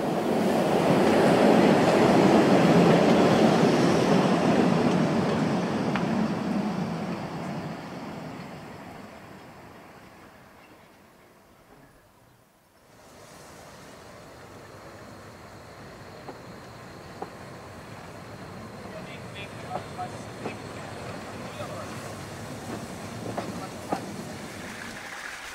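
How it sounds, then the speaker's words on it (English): Narrow gauge steam train in Saxony passing by, a loud broad rumble that peaks early and fades, then a quieter stretch with faint clicks and distant rolling noise. "Here is one of the regularly scheduled trains."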